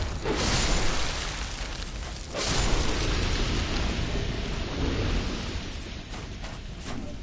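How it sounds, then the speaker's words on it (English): A flaming lizard explodes in the video game Dark Souls 2 with a heavy, roaring blast that rumbles continuously, flaring twice into louder bursts and rolling on for several seconds without speech. "Should we try to tank the explosion from that flaming lizard?"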